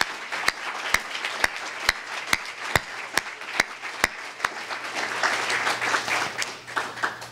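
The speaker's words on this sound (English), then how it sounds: "So please join me in applause for these educators and professionals who were not able to be here" At a school retirement celebration for educators, a single person claps in slow, steady, evenly spaced beats before the wider audience joins in with fuller, continuous applause, all over a faint low electrical hum.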